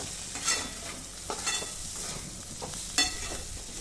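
Bitter gourd with sugar and coriander stirred in an open pan, a spoon scraping at a steady pace with a few sharper clinks over a soft, continuous sizzle.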